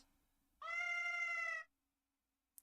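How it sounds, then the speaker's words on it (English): A single drawn-out cat meow from the video game Touhou LostWord, lasting about a second, clear and fairly close, followed by silence. "And this cat."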